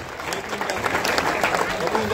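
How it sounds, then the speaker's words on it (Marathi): Loud, sustained applause from an audience at a memorial inauguration ceremony for Chhatrapati Shivaji Maharaj, a steady wash of many hands clapping with a voice speaking over it. "जोरदार टाळ्यांचा प्रतिसाद आपल्या सर्वांकडून अपेक्षित असेल."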